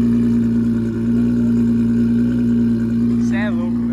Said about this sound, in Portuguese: Olha o som do escape, velho.